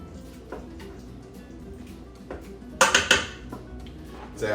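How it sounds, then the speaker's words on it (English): Pasta is stirred in a Ninja Foodi pot with a utensil, giving a few close clanks and scrapes against the metal, loudest in a short cluster midway, over a low steady hum. "And let's give it a stir."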